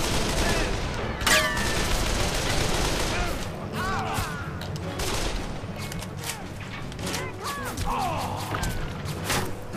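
Gunfire in the video game Call of Juarez: The Cartel, bursts of shots scattered through a dense, busy game soundscape with background effects and occasional bird-like calls; no speech in this stretch.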